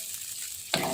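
Sweet and sour chicken in a pan, steady sizzling under a brief stir, then a sudden louder splash of hiss as a little water is added near the end; close and continuous, no talking.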